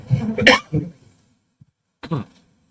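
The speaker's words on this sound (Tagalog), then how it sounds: "Hirap ng inuubo-ubo eh, no?" A couple of sharp coughs close up, separated by a short silence, with a brief faint click between them.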